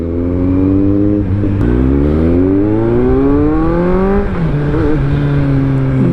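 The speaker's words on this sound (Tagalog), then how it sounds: "So hindi lang pala yung tunog ang naging advantage para sa akin ng silencer no. Para ah, lumakas pa yung motor." A 2022 Kawasaki Z900 with an aftermarket silencer revs hard and loud up close, engine pitch climbing through a long rising sweep, dropping briefly, then climbing again.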